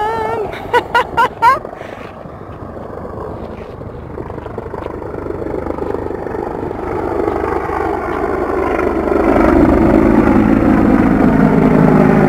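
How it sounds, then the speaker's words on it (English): A helicopter approaches at a desert campsite near Cibola, its engine and rotor drone swelling steadily from faint to loud and close, with a few brief bird chirps at the start. "Cool, helicopter coming in."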